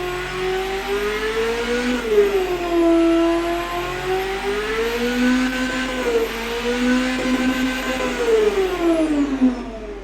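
In the car tycoon game Automation, a twin-turbo engine runs and revs steadily, its pitch rising and falling in smooth sweeps, loud and close with no talking.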